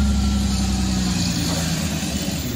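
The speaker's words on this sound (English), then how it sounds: "of course a garbage truck has to come through right now while I'm filming" Garbage truck rumbling past outside, a steady loud low engine drone with a constant hum that fades slightly near the end.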